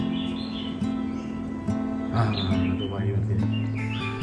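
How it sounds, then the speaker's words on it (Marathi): Several birds chirp and tweet in short bursts by a roadside in Anjarle, Konkan, over a steady low hum, fairly close and moderately loud. "खूप सारे पक्ष्यांचा आवाज येते बघा"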